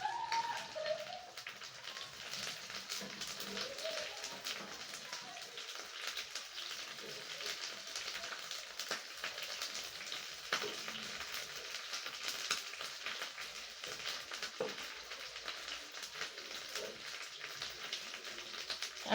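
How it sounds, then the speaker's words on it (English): Omena fish frying in oil in a pan, a continuous soft crackling sizzle with scattered small pops, rain-like and steady throughout. "After the one at the bottom has absorbed the oil, from there we will start turning our omena until it fries to golden brown"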